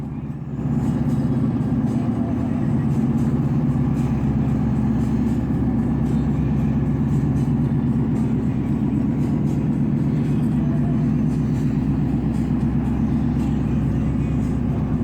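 Steady low engine drone from combine harvesters, two S680s, working a corn field during harvest, a continuous near-constant rumble with no talk.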